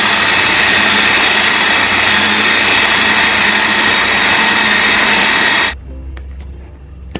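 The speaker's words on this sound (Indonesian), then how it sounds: "kita blender sampai halus" An electric blender or chopper grinding meatball dough for Solo-style bakso whirs loud, close and steady for several seconds, then cuts off abruptly into near quiet with a few faint clicks.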